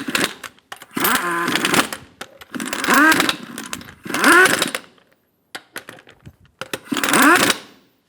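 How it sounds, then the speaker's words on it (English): Lug nuts are driven onto a 2007-2017 Ford Expedition front wheel: five sharp, whirring power-tool bursts of about a second each, close and loud, separated by brief quiet gaps and small clicks. "Snug down the lug nuts."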